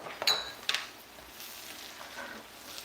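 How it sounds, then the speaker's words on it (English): A spoon clinks against a pot while pigtail stew is stirred, a few light metallic taps early on followed by a soft scraping hush, close and fairly quiet. "You stir this because we don't want the pigtail to burn"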